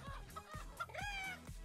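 Chicken clucking in a Clash Royale–style royal tournament video game, a rapid series of close, bright clucks and squawks with rhythmic low game thumps underneath, no clear talk.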